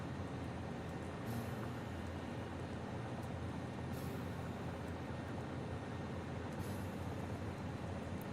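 A train rolls along in Satisfactory, a continuous loud low rumble that holds steady throughout, with a few faint higher swishes passing by.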